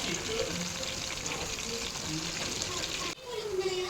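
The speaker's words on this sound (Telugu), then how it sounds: "ఆయిల్ ఎక్కువ యూజ్ చేయకుండా ఇట్లా తక్కువలోనే యూజ్ చేసుకొని ఇలా ఫ్రై చేసుకోవచ్చు" Fish fries in a small amount of oil in a pan, giving a steady bright sizzle and crackle that holds evenly, then briefly drops and resumes near the end.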